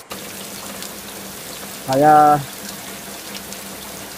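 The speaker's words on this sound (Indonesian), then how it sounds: "Ini hujannya sangat deras sekali." Heavy rain pours in a forest as a steady, even hiss that fills the whole stretch, with a short spoken word briefly rising over it midway.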